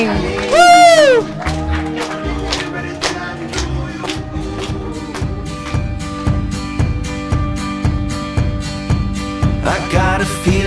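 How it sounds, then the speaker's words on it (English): Wedding guests cheer and clap for a newly married couple over a loud pop song with a steady beat, opening with a sharp whoop and continuing as a mix of clapping and crowd noise beneath the music. "Keep your applause going."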